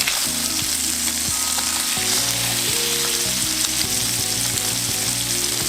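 Blackened salmon fillet sizzles steadily in a hot pan, a constant frying hiss running underneath louder melodic background music throughout.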